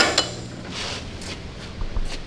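A spent 75mm shell case ejected from the gun breech of an Australian WWII M3 Grant tank during restoration, giving a loud metallic clank and clatter with a few short knocks at the end.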